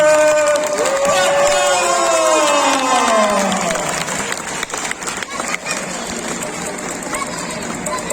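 A large crowd cheers and shouts for a hero at a lively event, with a loud surging roar of voices and a sliding whistle or chant tone at first, then settling into sustained clapping and babble.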